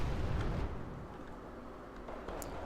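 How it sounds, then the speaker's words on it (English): BM-24 rocket artillery firing in Wargame: Red Dragon gives a rumbling, low explosive boom that decays over a couple of seconds, followed by faint distant battle noise. "BM-24 is firing again"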